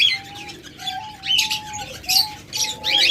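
Caged lovebirds, budgerigars and cockatiels chirp nearby in quick bursts, with thin tonal whistles between the chatter and no voices.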